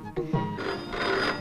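A telephone rings indoors in a comedy film scene, a short electronic ringing burst heard under a voice and background sound.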